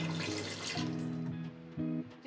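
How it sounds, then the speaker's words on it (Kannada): Water pours into a hot pan of frying Hyderabadi chicken masala gravy, a close, continuous gush and splash lasting a couple of seconds with a brief surge near the end. "ನೀರು ಹಾಕಬೇಕು."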